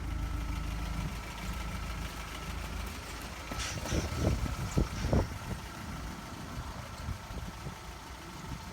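A 1998 Isuzu Amigo engine idles with a steady low rumble, and a cluster of louder rattling knocks sounds near the middle, recorded close with no voices.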